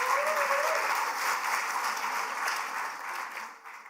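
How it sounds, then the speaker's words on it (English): Audience applause at an author book event, a steady wash of clapping from a seated crowd that holds for several seconds and then begins to thin out near the end. "So please give a round of applause to Jordan Snitcher."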